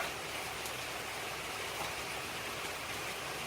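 Steady rain falls outdoors as an even, soft hiss that stays unchanged throughout, with no voices.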